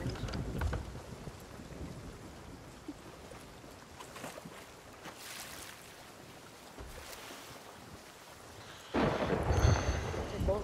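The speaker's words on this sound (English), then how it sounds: "I'm gonna try to get us out of the storm." Rain hisses steadily in a stormy video game scene around a ship tangled in rocks, with low thunder rumbles and a heavier surge of rain and wind near the end; no one speaks.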